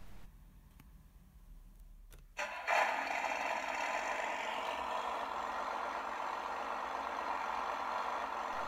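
A speaker fitted to a 3D-printed RC ZIL-137 10x10 truck plays a simulated engine sound, faint at first, then a clear start followed by a steady idle drone that holds to the end.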